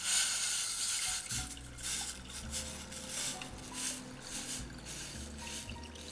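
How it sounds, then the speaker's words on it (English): Water running into a cooking pot as a Maltese lemon and almond drink is started, a steady close splashing stream with no talk. "I'm starting with some water into my pot."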